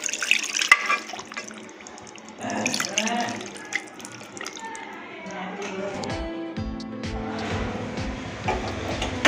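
Water is poured into a pressure cooker holding mutton with ginger and garlic for a Tamil mutton kulambu, a splashing, gurgling pour that grows fuller as it fills, with a voice talking over it.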